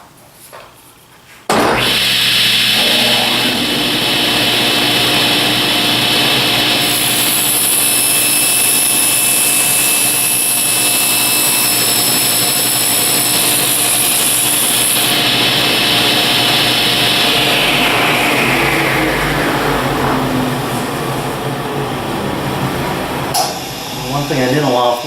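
A table saw makes a test cut through a plywood panel for a bird feeder build, roaring loudly and steadily for about twenty seconds after starting, then winding down near the end, with the whine of the spinning blade throughout.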